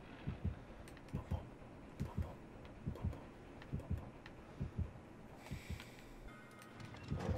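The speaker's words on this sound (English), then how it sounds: "Oh, there's the heartbeat." Rhythmic low double-thump heartbeat from the horror game Dead by Daylight, pulsing steadily through the whole stretch at moderate level, with faint game ambience and a brief brighter hiss near the end.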